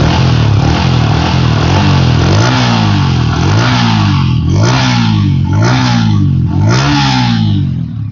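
A new 2024 Yamaha R15M motorcycle's engine is revved repeatedly up close, loud rising and falling surges in a steady rhythm over a constant idle rumble.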